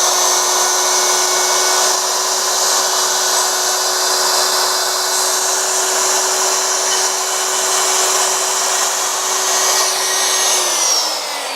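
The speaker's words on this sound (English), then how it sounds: "I'm going to bring it down, plunge in" A wood router plunges into a workpiece on a router mat to cut a keyway, giving a loud, steady high-pitched whine that holds throughout and spins down at the end.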